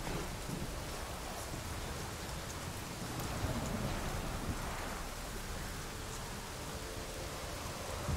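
Rain in The Witcher 3 video game, a quiet, even hiss of falling rain with a faint low rumble beneath, steady and unbroken with no voices.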